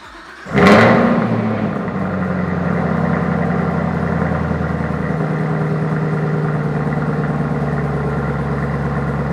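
A 2019 Chevrolet Camaro ZL1 1LE fires up with a sharp loud start flare, then settles into a steady deep rumbling idle that carries on close and loud.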